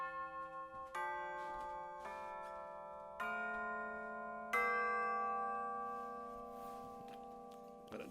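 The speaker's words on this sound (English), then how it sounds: "I got some chimes that I got from Columbia Studios here" Orchestral tubular chimes from Columbia Studios struck one after another in a quiet room, five bright metallic strikes at about one-second spacing, each ringing on and slowly decaying, the last held longest.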